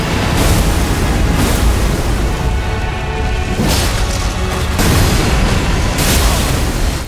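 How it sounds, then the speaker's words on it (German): Explosions in the video game Elden Ring, played on PS5, come as loud, roaring bursts of noise: several heavy booms break one after another over a constant rumble. "diese Explosion hat mich fast das Leben gekostet"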